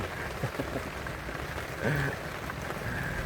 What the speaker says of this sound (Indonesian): Hujan tuh.